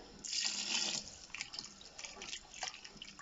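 Chicken stock poured a little at a time into a stew pot for beef stew, a close, steady liquid splash and trickle that fades into softer intermittent drips.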